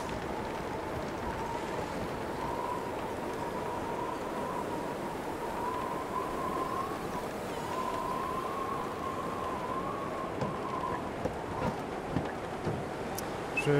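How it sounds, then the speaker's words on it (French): Storm wind howling in The Long Dark survival video game, a steady faint whistling blow with a wavering tone sustained throughout and no voices. "avec la tempête on entend quasiment rien"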